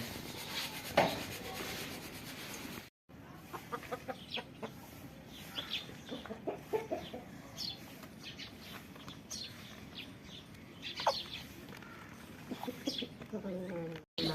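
Chickens cluck on and off at moderate distance amid a busy village farmyard in the morning, with people talking nearby.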